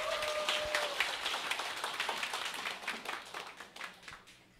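An indoor audience gives a round of clapping to welcome a speaker at a seminar, a fairly faint patter of many hands that gradually thins and fades out.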